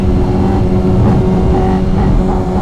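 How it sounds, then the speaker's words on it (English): A fast Ford Mustang drag car fitted with a rear parachute accelerates hard past at night during a roll race event, its loud, steady engine roar filling the whole stretch with no letup. "Holy crap, that's a fast Mustang."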